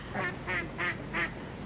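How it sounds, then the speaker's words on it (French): Four short nasal duck quacks spaced evenly about a third of a second apart, fairly close, over a low background hum. "je voulais juste éviter les petits canards qui sont là"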